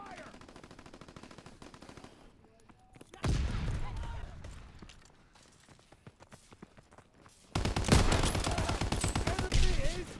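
Heavy gunfire in a WW2 video game: steady rattling shots throughout, swelling into two louder, denser bursts of close fire partway through and near the end.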